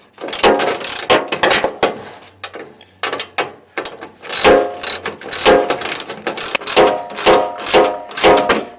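A ratchet wrench tightens a bolt on a Generac standby generator's stator during reassembly, giving bursts of rapid close clicking with short pauses between strokes.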